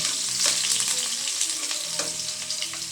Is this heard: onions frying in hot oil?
yes